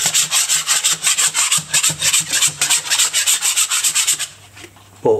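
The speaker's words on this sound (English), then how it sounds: "So as I'm actually scraping, I'll scrape off any lumps and nibs." A scraper is dragged repeatedly across a wall to knock off lumps and nibs, making a fast, rhythmic series of close, rasping scrapes that stop briefly near the end.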